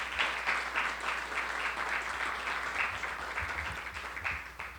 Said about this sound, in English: So please give them a big round of applause for what they do.